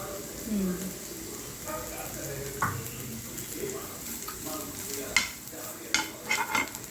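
Onions fry in a pan with a soft, steady sizzle, joined by occasional scraping stirs and light clinks of a utensil, while a person talks over it.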